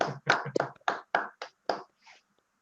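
Online participants unmute to clap at a dental public health residency graduation celebration, producing a handful of separate, sharp claps and snaps in an irregular rhythm. They are fairly close and thin, then trail off into silence.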